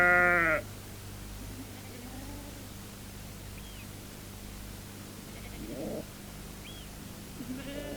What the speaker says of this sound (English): Most of the time, the sheep wander freely about on the Scottish heaths